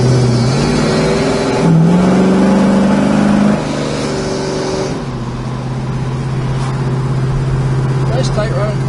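A 1970 Chevrolet Chevelle SS runs down the road with its engine droning and pitch rising as it accelerates, then settling into a steady cruising hum, heard loud and close from inside the car.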